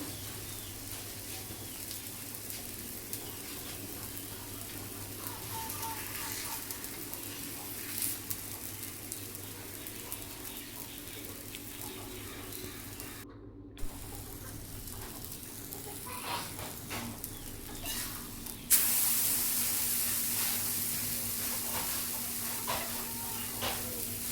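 Pitha frying in a small amount of oil, a soft steady sizzle and faint hiss at low volume, growing brighter and a little louder toward the end, with quiet household background.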